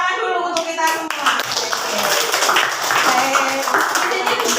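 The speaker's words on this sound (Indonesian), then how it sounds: "beri tepuk tangan dulu untuk kita semua." A sixth-grade class claps together in a classroom, a bright burst of many hands that continues steadily at close range while voices talk over it.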